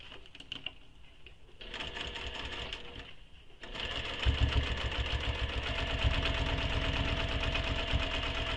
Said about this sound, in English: I'm going to do a second row of stitching just because.